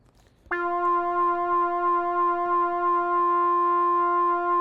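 A single square-wave synthesizer tone starts abruptly and holds steady and buzzy for several seconds without fading, bright with harmonics, alone with no voices.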